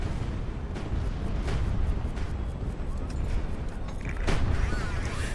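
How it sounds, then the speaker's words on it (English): Ammo explosion aboard a ship in the video game HighFleet, a run of loud booming bursts and crackling blasts over a rumbling low roar, the last few seconds the most intense. "Oh, we've just experienced an ammo explosion."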